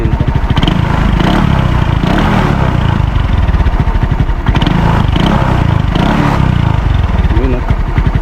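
Easy Ride ER150P motorcycle engine running loudly and steadily close by, a continuous rough chugging with slight rises in revs, a voice talking over it.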